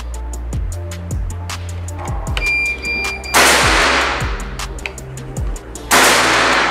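Two sharp, hissing bursts from a Jawara Mauser PCP air rifle with a silencer during a chronograph speed test, several seconds apart, over a steady pattern of repeated low thuds in the background.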